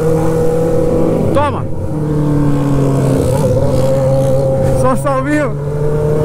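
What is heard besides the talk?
motorcycles with straight-pipe exhausts revving and popping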